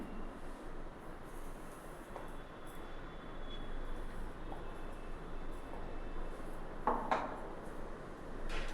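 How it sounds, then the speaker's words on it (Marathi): Sabudana coarsely ground in a mixer grinder makes a loud, continuous motor whir with gritty rattling throughout and a brief metallic clatter late. "आता हे मी मिक्सरमधनं बारीक करणार आहे जास्त बारीक करणार नाही जाडसर करणार आहे"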